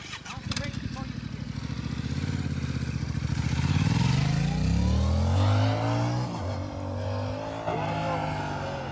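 A motorcycle rides past on a race track during a braking demonstration, its engine note rising then falling away over several seconds, with people talking over it.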